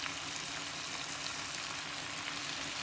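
Spicy potatoes with garam masala and Thai chili frying in a pan, a steady dense sizzle with fine crackling, close and continuous with no speech.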